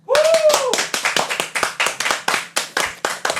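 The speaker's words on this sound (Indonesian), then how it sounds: "tepuk tangan kali." A few people clap their hands in a loose, quick rhythm during a casual podcast, the claps close and loud, with a brief vocal sound at the start before the clapping carries on.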